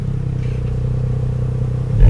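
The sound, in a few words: Porsche Panamera 4 exhaust with exhaust flaps opened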